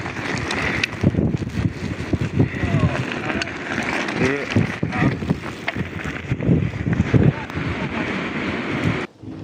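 Strong bora gusts roar and buffet through Trieste during a snowstorm, a continuous rough blustering wind noise rising and falling in bursts, with faint voices underneath.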